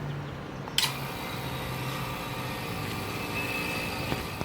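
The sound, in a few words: vacuum pump running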